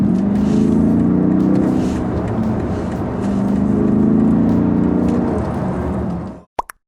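A V8 SUV engine runs with a deep, steady rumble that swells slightly midway, then cuts off abruptly near the end, followed by a couple of sharp clicks in near silence.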